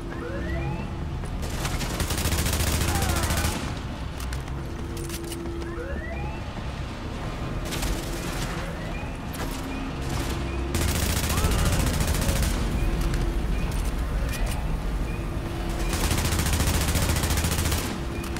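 Blind-fire gunfire from the shooter game The Division crackles in repeated bursts throughout, loud and close, with rhythmic clusters of shots over a wailing siren-like tone and constant in-game ambience.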